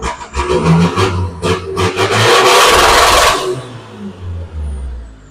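A turbocharged car engine running 35 psi of boost blips several times, then swells into a loud sustained roar before dropping back to a low idle.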